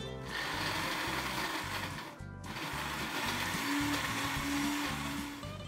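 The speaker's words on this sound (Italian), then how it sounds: "E ora andiamo a frullare il tutto." Kitchen blender whirring loudly as it purees chickpeas, lemon, vegan mayonnaise and mustard, with a brief pause midway before the motor resumes its steady buzzing grind.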